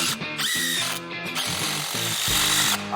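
A power driver runs in short whirring bursts with stops and restarts, driving screws into the frame of a 20-year-old sofa being reassembled after repair. The motor sounds close and steady, with no talking.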